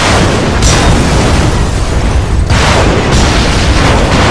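Loud rocket explosions in the video game Resistance 2, a dense, continuous roar of blasts with distinct bursts near the start and again later, no speech over it.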